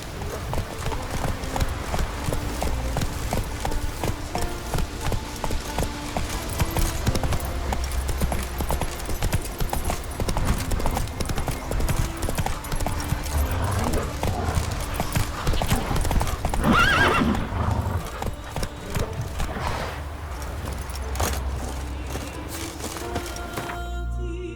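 Roach the horse gallops in The Witcher 3, a fast, steady clip-clop of hooves running throughout at close range, with a whinny around the middle.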